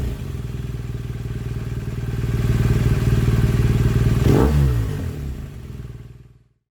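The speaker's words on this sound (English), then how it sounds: "here we have today a BMW C400X" A BMW C400X scooter engine runs close by with a steady low drone that swells slightly and then dies away as it is shut off, with a brief clatter near the end.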